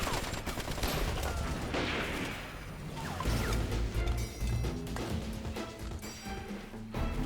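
Dense gunfire from a night ambush in a Vietnamese anti-Japanese war action film, a loud, sustained fusillade of overlapping shots and bursts with crashing impacts running throughout.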